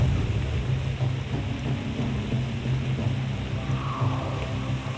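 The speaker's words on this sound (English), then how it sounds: "That's a real storm. Wow, here it comes hard and cold." A heavy, cold rainstorm sweeps over a remote island as a dense, steady roar of pouring rain with deep rumbling underneath, loud and unbroken throughout.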